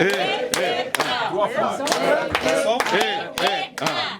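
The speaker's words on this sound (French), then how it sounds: "Applaudissons." Audience members clap at a Sabbath celebration: sharp, close hand claps in an uneven rhythm of roughly ten strikes, heard under loud singing or chanting voices.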